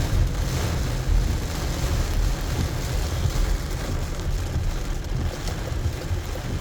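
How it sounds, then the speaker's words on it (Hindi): Hurricane Francine's wind and rain roar steadily outdoors, a dense, unbroken rush of gusting air and falling water with no voices. "अभी मेरे दाईं तरफ से तूफ़ान पूरे ज़ोर शोर के साथ मौजूद है।"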